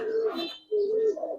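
A female coloring pigeon coos as it is released, two low rolling coos close by with a brief pause between, faint talk underneath.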